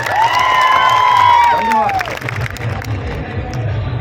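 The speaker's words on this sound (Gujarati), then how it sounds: "સરદાર માન સાહેબ માટે તાળીઓથી વધાવીએ." A large crowd at a political rally claps and cheers loudly, with whoops and a sustained roar of applause, while a ringing tone fades out early on.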